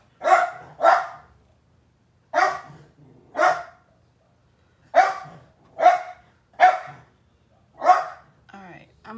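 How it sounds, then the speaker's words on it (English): A dog barks indoors in short, loud, separate bursts, about nine barks in quick pairs and singles with brief silences between them. "Every time I get on here, he wants to bark."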